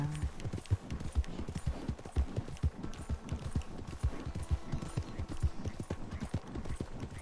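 Steady clip-clop of video game horse hooves trotting at a quick, even rhythm, continuous and fairly close throughout.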